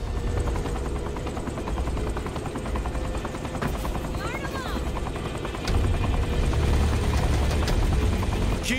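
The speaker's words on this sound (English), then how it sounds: "I've never flown anything like this thing before. It's called a helicopter." A helicopter's rotor chop drones loud and continuous throughout, with faint crackling bursts like distant gunfire layered beneath.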